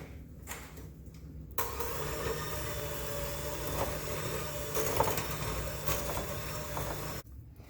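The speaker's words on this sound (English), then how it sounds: "And now I'm going to mix it up with the beater" Electric beater mixing butter and flour into cookie dough, a steady whirring motor hum that starts abruptly after a few faint knocks, runs continuously with small rattles, then cuts off sharply.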